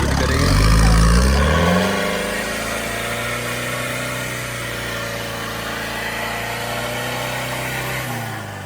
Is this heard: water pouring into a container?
no